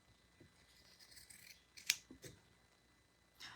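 Scissors snip through craft material for DIY gnomes in a few quiet, scattered cuts, with one sharp, crisp snip standing out near the middle. No one speaks.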